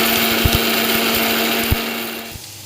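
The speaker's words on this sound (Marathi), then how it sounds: "आता मिक्सरच्या भांड्यामध्ये टाकून घेतले पुसून, आणि आता फिरवून घेते मी।" A kitchen mixer grinder runs loudly with a steady motor whine, grinding ingredients for a fasting-day kachori filling, with a few knocks from the jar rattling on its base throughout.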